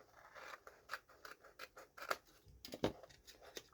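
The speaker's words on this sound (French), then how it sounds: "je vais venir couper ce qui dépasse" Scissors snipping paper for a papercraft kit, a quick run of close, crisp cuts with small rustles between them, quiet and without talk.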